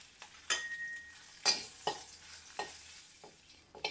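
Green chilli, cumin, asafoetida and curry leaves sautéing in hot ghee, a close crackling sizzle broken by several distinct spoon-stirring scrapes against the pan, with no voices.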